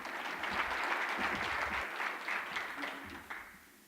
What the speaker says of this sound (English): So one more round of applause, and then I have something for them.